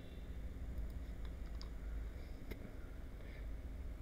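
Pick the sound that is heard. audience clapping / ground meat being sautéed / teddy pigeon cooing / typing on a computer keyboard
typing on a computer keyboard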